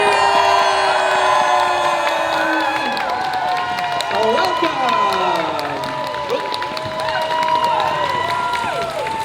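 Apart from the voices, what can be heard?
audience applause and cheering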